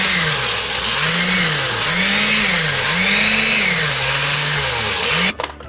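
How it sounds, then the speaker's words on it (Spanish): Toasted bread is ground into breadcrumbs in a household blender. The motor runs loud and close with a wavering whine as the load shifts, then cuts off abruptly near the end. "tapo mi licuadora y presiono"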